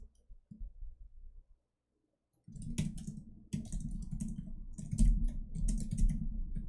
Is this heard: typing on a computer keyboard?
yes